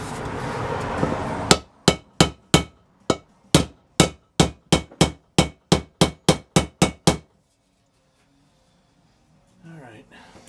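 About fifteen sharp, ringing hammer blows strike a metal headlight bucket to form a dimple, landing in a quick steady rhythm, loud and close, after a brief stretch of muffled background noise, then falling silent.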